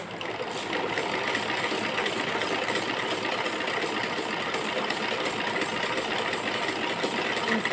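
Sewing machine stitching cloth, a steady fast mechanical whir running continuously and close, with no pauses or talk.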